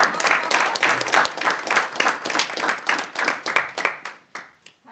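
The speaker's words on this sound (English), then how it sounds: "Please do give a round of applause" Toastmasters club members at a joint meeting give a round of applause, brisk individual claps from a modest group close by, steady for several seconds and then thinning out and fading.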